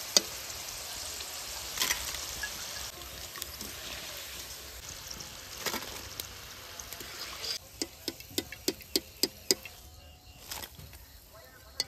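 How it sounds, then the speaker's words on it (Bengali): Raw potato chips fry in hot oil with a steady crackling sizzle, followed by a run of sharp, close taps and clinks from the utensils. Someone talks over the sizzling. "গরম তেলে দেবেন আর তুলবেন"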